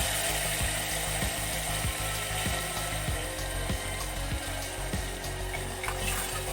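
Green chillies frying in a pan with bay leaf, onion and tomato paste for chicken dum biryani, a dense, steady sizzle with faint utensil taps scattered across it.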